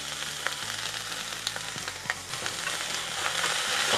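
An egg mixture for a sandwich fries in a pan with a steady sizzle, punctuated by a few sharp spatula knocks and scrapes as it is stirred.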